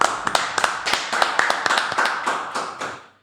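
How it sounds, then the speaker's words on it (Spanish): A short burst of applause for a podcast guest, a small group of hands clapping in an uneven rhythm of sharp, close claps. The clapping thins out and stops after about three seconds. "Un fuerte aplauso para él."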